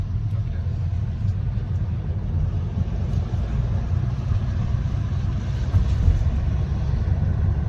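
A learner's car in a driving lesson, its engine a steady low rumble heard from inside the cabin, rising only slightly toward the end.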